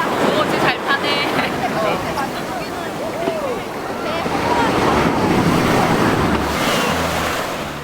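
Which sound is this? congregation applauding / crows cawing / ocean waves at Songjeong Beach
ocean waves at Songjeong Beach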